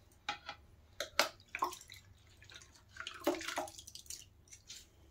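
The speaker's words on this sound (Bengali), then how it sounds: "এখন ধুয়ে রাখা মূলগুলো ভালো করে জল চিপে চিপে নিয়ে নেব প্লেটে" Washed radish being squeezed by hand for pakoras, giving a series of short wet drips and splashes in irregular bursts, close and fairly quiet, with no talking.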